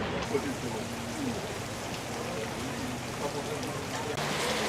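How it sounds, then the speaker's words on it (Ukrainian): Heavy rain shower during the rainy season in Vietnam, a steady loud hiss of rain pouring down throughout, continuous and unbroken. "Ну що ж, дощ таки розпочався, він щойно такий. Дуже сильний ливанов"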